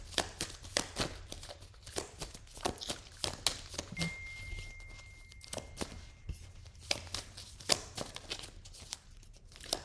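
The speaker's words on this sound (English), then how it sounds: "I'm going to really shuffle these really good." Cards are shuffled repeatedly up close, a rapid series of crisp riffling and slapping bursts in an uneven rhythm.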